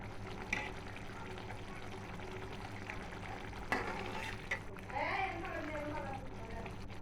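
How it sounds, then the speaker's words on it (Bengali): Fish cook in a pan of boiling liquid, giving a steady bubbling sizzle throughout, with a brief clatter partway through and low background noise. "একটু ভালো করে উতলাই নিলে আমি নামাই ফেলবো মাছগুলো।"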